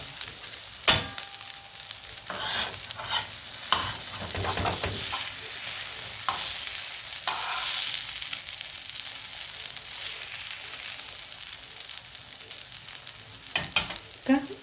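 Bread toasting in ghee on a hot griddle, with a steady close sizzle and hiss and a few sharp pops and crackles scattered throughout.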